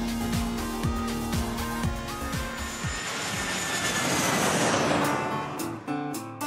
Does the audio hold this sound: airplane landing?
yes